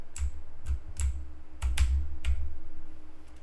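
Computer keyboard keys pressed to play rhythm shots in a game: about seven sharp, close clicks in an uneven pattern, some paired, over a steady low hum.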